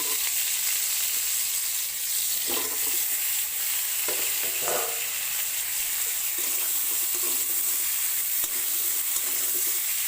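Pointed gourd frying in a pan as potatoes are added, a steady bright sizzle hissing throughout with a few soft clatters and stirring knocks.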